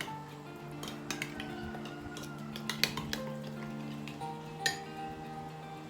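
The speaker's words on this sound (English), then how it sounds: "So she's mixing up very thoroughly." Ingredients for a Thai seafood curry sauce stirred thoroughly in a bowl, with light clinks and ticks of a utensil against the bowl over a steady low hum, soft and close, without talk.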